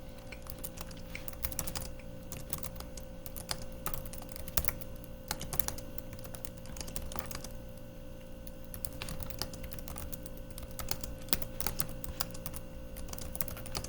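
Steady rapid clicking of keys on a computer keyboard, close and fairly quiet, running continuously with no talking.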